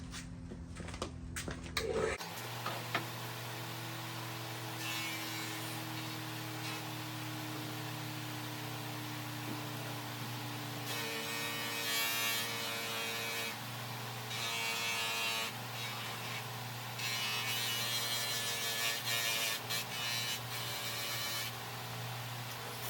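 A buffing wheel machine hums and whirs steadily while polishing a cast brass plaque, with a low motor drone and brighter friction hiss rising and falling as the piece is pressed against the wheel.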